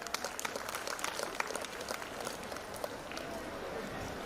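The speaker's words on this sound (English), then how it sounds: "So thank you for giving a big applause." Scattered clapping from an audience at a waste management award ceremony, faint and distant, with a steady patter of individual claps running throughout.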